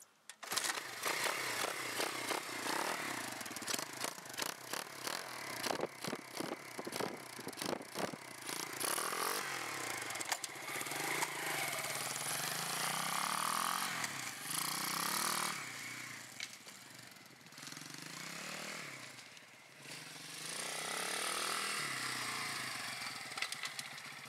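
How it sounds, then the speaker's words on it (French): A YCF 125 dirt bike engine cranks and catches, then runs with sharp revving bursts and a rough, buzzy idle, close and loud throughout with short dips between blips of the throttle. "je vais démarrer ma moto en première"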